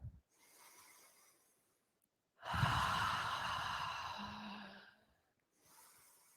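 Deep yoga breaths during a held pose: a faint first exhale, then a long, loud, airy breath lasting a few seconds, followed by another softer one starting at the end, close to the mic with no speech.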